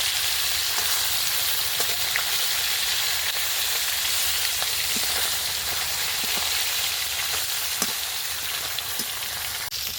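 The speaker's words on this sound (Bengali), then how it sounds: "মাছগুলো এক পিস করে ভাজা হয়ে গেছে এবার আমি উল্টে দেবো" Fish pieces fry in oil with a steady, loud sizzle throughout, dotted with small crackles and pops, close up and with no voices.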